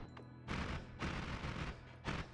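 Bursts of machine gun fire from a wand in a video game, three loud rapid volleys separated by short pauses, harsh and percussive with strong recoil-like booms.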